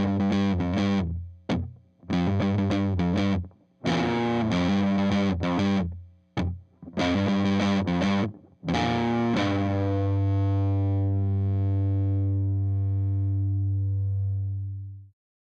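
Electric guitar through a fuzz pedal set for a cutting, modern tone, loud and saturated, playing choppy chord bursts separated by short breaks, then one held chord sustaining for several seconds before stopping abruptly.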